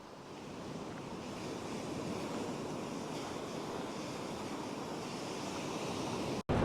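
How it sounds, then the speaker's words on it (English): Ocean waves roll in steadily on a breezy day, a constant broad wash of surf with wind buffeting the microphone, continuous and fairly close, ending in a brief cut. "So even though it's fairly breezy, which you can just probably tell by the waves."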